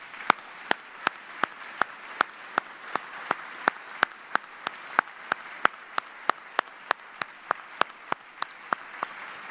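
Steady, evenly spaced handclaps ring out in applause for the families of retirees at a US Army retirement ceremony, crisp and sustained for nearly ten seconds with no talk over them.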